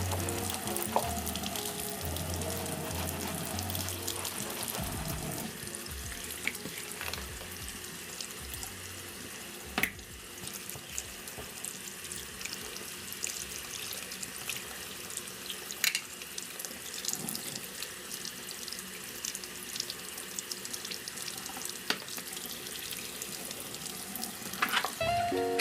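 Makeup brush being washed with soap and water on a cleaning mat, with continuous wet swishing and running tap water, scattered small clicks and splashes, fairly quiet and steady with no talk.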